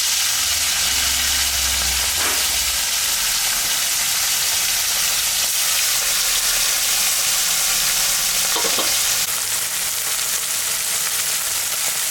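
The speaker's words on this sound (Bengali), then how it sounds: "মাছটা আমার ভাজা হয়ে গেছে" Fish seasoned with salt and turmeric frying in a pan, a steady loud broadband sizzle throughout with occasional stirring scrapes and no voices.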